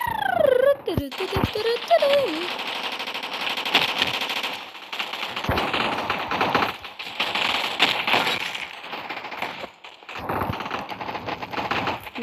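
Rapid automatic gunfire rattles through a Roblox shooter game, dense overlapping bursts from several weapons firing at once, loud and nearly continuous, with a few brief gaps and voices mixed in.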